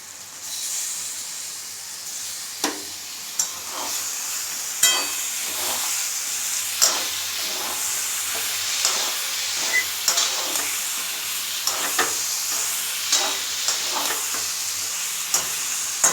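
Chicken meat frying in a pan, a steady loud sizzle with periodic scraping knocks as it is stirred, no voices.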